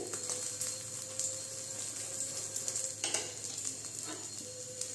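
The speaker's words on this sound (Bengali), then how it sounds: "আমি এই পাশেও ঘিটা লাগিয়ে দিচ্ছি।" Egg paratha fries in ghee on a pan, giving a soft, steady sizzle with light scraping and clinks of a utensil now and then, heard up close with no talking.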